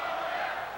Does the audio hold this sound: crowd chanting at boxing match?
yes